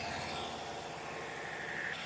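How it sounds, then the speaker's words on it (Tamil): A large Cummins engine runs inside the engine room of a purse seine fishing boat, a steady, loud, droning rumble with fast regular pulsing and no voices. "இங்கே இன்ஜின் ரூம் இன்ஜின் ஆன் பண்ணி விட்டுருக்காங்க. பெரிய இன்ஜின், ஏதோ கும்மின்ஸ் இருக்கு இன்ஜின் நேமு"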